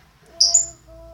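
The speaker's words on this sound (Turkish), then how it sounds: "Papağanımız ötüyor bu arada." A pet parrot gives a short, bright chirp and whistle, a single brief call over a quiet room with faint background hum.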